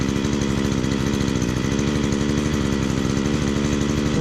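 A lawn mower engine idles nearby, a steady, even, buzzing putter that holds constant throughout with no speech.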